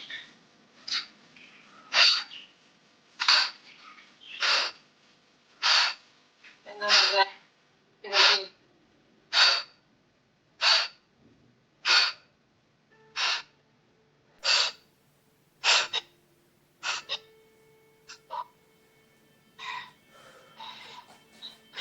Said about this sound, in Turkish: Güzel derin derin nefes aldık verdik.